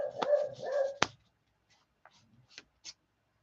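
A dog indoors lets out a burst of loud, close barks in the first second, followed by a few fainter, scattered yips and rustles that trail off into near quiet.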